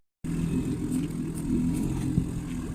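An outboard motor on a Leisure 17 sailboat runs after a brief silent start, giving a steady, close, low rumbling drone that holds evenly throughout.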